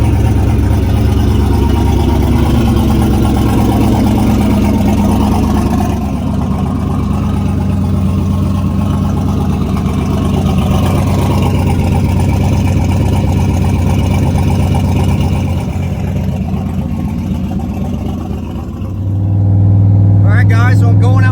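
A turbo Z71 truck fitted with new coilovers cruises down the road, its engine droning loudly and steadily from inside the cab. Its pitch shifts slightly near the end, with voices over it.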